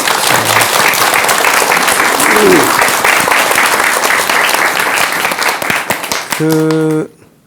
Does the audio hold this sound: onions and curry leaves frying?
no